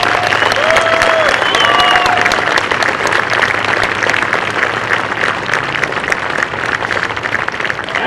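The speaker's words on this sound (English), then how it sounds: "Join me in a round of applause to thank them for their service." A stadium crowd applauds and cheers for the armed forces at a high school baseball championship game, a loud continuous wash of clapping with a few voices and whistles rising above it for eight seconds.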